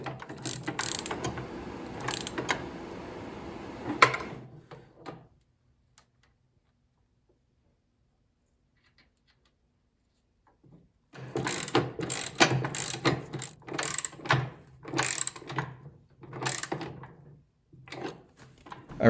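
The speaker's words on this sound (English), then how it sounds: "the new friction wheel is rotating freely. It's turning the axle like it should, and adjusting the shift lever moves it back and forth just like it should" Mechanical ratcheting and clicking of an MTD wheeled snow blower as the friction wheel turns the axle and the shift lever is moved, two bursts of close, rapid clattering separated by a silent pause.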